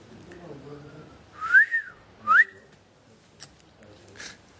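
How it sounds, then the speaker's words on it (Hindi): A person whistles two short, rising notes close to the microphone, with faint speech and background noise around them and a few brief clicks afterward. "तो तू लोग क्यों मार रही है सीटी?"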